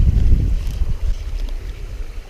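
Wind gusts across a mountain lake at Lonesome Lake, Franconia Notch, loud, rumbling buffeting strongest at the start, then easing into a steady windy roar, with no one speaking.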